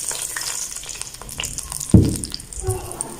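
Sugar poured into hot ghee for sweet mutanjan rice sets off a soft sizzle, with a sudden louder splash and crackle near the middle before it settles back to a gentle fry.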